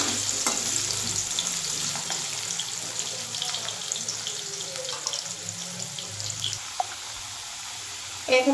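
Long potato sticks frying in hot oil, giving a steady, fairly quiet hiss and crackle that runs unbroken, with a few soft clinks near the end.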